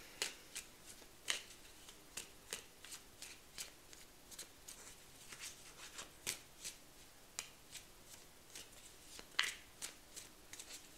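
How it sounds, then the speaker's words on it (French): Tarot cards being shuffled and pulled from the deck, a steady run of light crisp snaps and riffles close by, faint and unhurried, with no voices. "Je vais vous prendre encore quelques cartes les amis ici."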